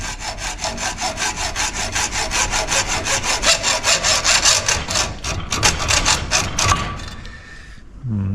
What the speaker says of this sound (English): So let's see how we go with a hacksaw.